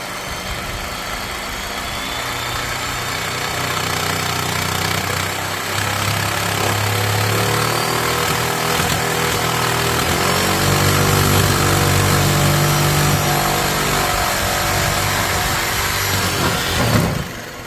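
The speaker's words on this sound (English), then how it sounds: "you're gonna put your jigsaw like this, and you're just gonna slowly" Jigsaw slowly cutting through a camper van door, a loud continuous buzzing motor drone with a steady rasping blade that holds for most of the time before easing off near the end, close up and with no voices.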